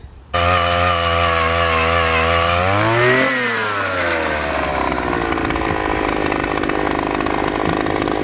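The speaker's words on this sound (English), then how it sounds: "neighbor had this awesome auger. We're gonna give it a try." A gas-powered post hole auger revs loudly, its engine pitch rising and then dipping as it bores into the ground for barn posts. The steady roar runs close and continuous with no talk.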